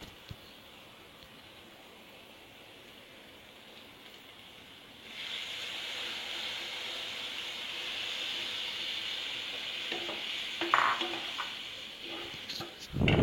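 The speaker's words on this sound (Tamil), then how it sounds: "இப்போ வந்து நான் வந்து புளி கரைச்சல் சேர்க்க போகிறேன்." Tamarind extract poured into sizzling kuzhambu in a pan, a quiet low hiss for the first five seconds that swells into a louder steady sizzle and bubbling, with a few sharper stirring clatters near the end.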